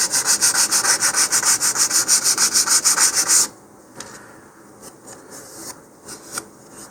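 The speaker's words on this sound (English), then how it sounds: "take some finer sandpaper, 150 grit here, and do the final smoothing" Fine 150-grit sandpaper smooths balsa wood for a model rocket in fast, even back-and-forth strokes that are loud and close, then stops, leaving quiet handling noises and a few soft scrapes.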